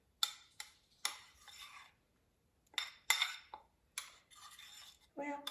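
Homemade pizza sauce with spices being stirred, a spoon clinking and scraping against a bowl in short irregular bursts, close and fairly quiet with brief pauses.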